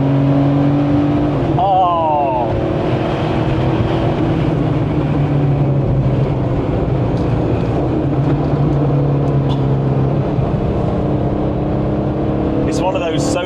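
A Porsche 964 3.8 RS lapping the Goodwood circuit, its engine droning steadily under in-car conversation, rising and falling in pitch as the car accelerates and shifts.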